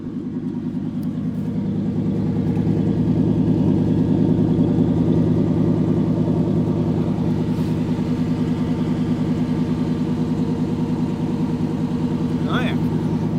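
A 1988 Chevy truck fitted with side pipes idles close by, a steady, loud, deep rumble that holds unbroken for the whole stretch, with no talk over it.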